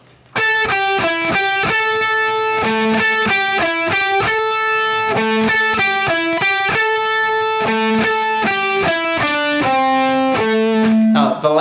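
Guitar riff from a song, a steady run of clear picked notes repeated in a loop, loud and close with no talking over it.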